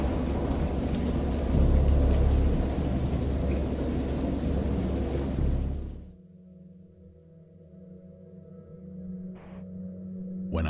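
A heavy downpour roars in the background of the film Dagon, with a deep thunder rumble swelling early. It cuts off abruptly to quiet, low sustained tones.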